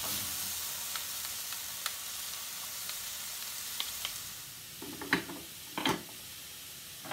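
Raw vegetables with previously frozen soy and mushrooms fry in a pan at a steady close sizzle, with a few sharper stirring scrapes and clicks of a utensil toward the end.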